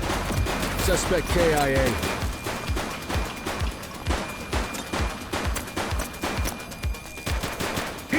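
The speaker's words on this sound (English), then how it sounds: "Shots fired!" Rapid gunfire from The Precinct police game, a dense run of sharp repeated shots through most of the stretch, loud and close, with shouted voices over the start.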